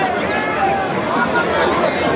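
A crowd of CBC fans cheering at an under-20 school rugby match, a dense steady roar of voices and chatter filling the whole moment.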